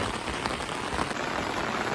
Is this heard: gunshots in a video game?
no